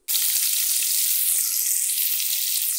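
Onion and chilli hit hot oil in a pan for egg fried rice, setting off a loud, steady, close sizzle that begins abruptly and holds evenly throughout with no voices.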